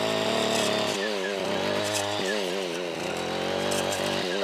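A string trimmer fitted with a brand-new Forester brush cutter blade roars steadily while cutting brush, its engine pitch dipping and bogging as the blade bites, then climbing back up, loud and close throughout.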